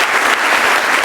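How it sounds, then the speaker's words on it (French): A comedy show audience bursts into brief, loud, dense applause filling the room. "On l'applaudit."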